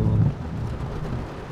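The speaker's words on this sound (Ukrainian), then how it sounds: "Дощ і вітер." Steady rain and gusting wind outside a car parked by Lake Camanche on a stormy fishing day, a dense, continuous low rumble and wash heard from inside the vehicle, slightly louder at the start.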